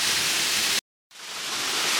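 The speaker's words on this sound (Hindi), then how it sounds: "छोटा महादेव के पास में ये जो झरना आप देख रहे हैं, ये झरना साल के 12 महीने इसी तरह से चलता रहता है" Waterfall beside Chhota Mahadev temple, a loud, steady rushing roar up close, cut off by a brief silent gap before it resumes.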